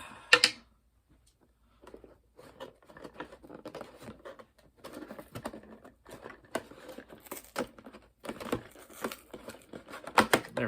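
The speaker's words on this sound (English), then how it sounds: "So let's get this box opened up and see what's inside." Pink scissors cut open a Hasbro Pulse Transformers Hot Rod figure toy box, giving a quiet run of close, irregular snipping clicks and cardboard crinkles, with a sharper rustle at the start and louder snips near the end.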